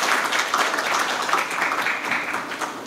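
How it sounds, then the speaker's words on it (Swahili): An audience at a ceremony honouring a sports club applauds the president with dense, steady clapping that holds at an even level from start to finish. "Makofi kwa Mheshimiwa Rais tafadhali."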